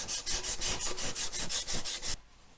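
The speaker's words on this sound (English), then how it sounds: "I'm going to use some of this Scotch paper here and see if we can't do our own polish job here." Scotch abrasive paper rubbed by hand along a broken Onan engine connecting rod, a steady run of about ten rhythmic, close scraping strokes that stop abruptly near the end.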